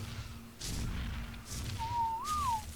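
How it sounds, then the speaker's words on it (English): A character in the Ark video game gives a short rising-and-falling whistle near the end, clear and alone over a low hum and a few dull thuds. "Whistling."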